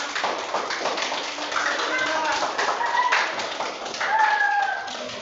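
A group of schoolchildren in a classroom claps in a rapid, dense patter that fills the room. Children's voices and a few high-pitched calls mix in with the clapping.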